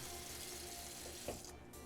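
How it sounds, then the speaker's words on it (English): Tap water runs steadily into a cooking pan during meal prep, a continuous hiss with a brief splash change partway through, heard alone and close. "we're just gonna put a little bit of water in the bottom of the pan"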